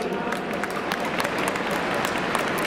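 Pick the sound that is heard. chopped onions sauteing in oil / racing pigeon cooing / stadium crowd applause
stadium crowd applause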